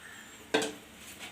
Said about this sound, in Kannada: ಸ್ಲೋ ಫ್ಲೇಮಲ್ಲಿ ಕಲಿಸ್ಕೊಡ್ತಾನೆ ಇರಿ